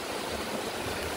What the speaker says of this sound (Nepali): खोला कत्रो आवाज गरे होला